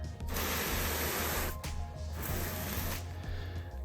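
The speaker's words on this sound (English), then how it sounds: "put it onto fan mode, and then I'm just going to do a quick, really quick spray over the whole step." A garden hose set to fan mode hisses as it sprays water over a concrete step in broad, steady bursts, with two short pauses between passes and a low hum running underneath.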